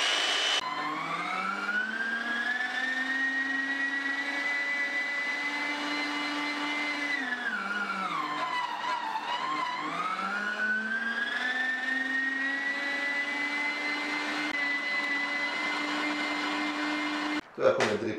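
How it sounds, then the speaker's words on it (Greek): An electric machine grates cheese, running as a steady loud whine that dips in pitch midway under load before rising again, then cuts off abruptly near the end. "Το έχουμε τρίψει λοιπόν το τυρί μας."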